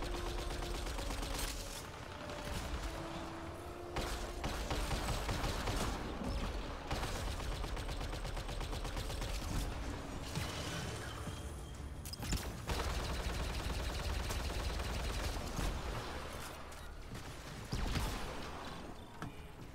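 Sustained rapid gunfire from a Turian Soldier's Cyclone assault rifle and Indra sniper rifle in Mass Effect: Andromeda multiplayer, loud continuous bursts with brief pauses for reloading and layered game effects.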